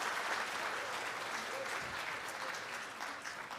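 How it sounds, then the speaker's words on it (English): An audience at the 50th annual CDC talent show claps in sustained, even applause. The clapping is fairly faint and sounds distant. "If we give them a big round of applause"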